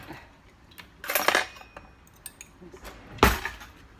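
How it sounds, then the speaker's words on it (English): A utensil clinks and scrapes against a bowl while salt and pepper are stirred into the ingredients, in a few sharp bursts of rattling metal with quieter gaps between. "And then put salt and pepper and stir it."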